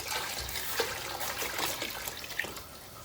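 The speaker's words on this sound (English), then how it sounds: "going to add the water in for me" Water is poured into a soup pot for Italian wedding soup, a steady rushing splash that runs fairly quietly and continuously with no voices.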